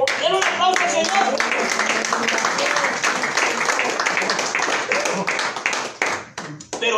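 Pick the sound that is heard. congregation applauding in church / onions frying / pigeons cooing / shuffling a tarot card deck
congregation applauding in church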